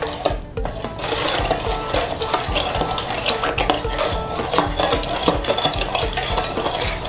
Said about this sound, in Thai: คนให้เข้ากันค่ะ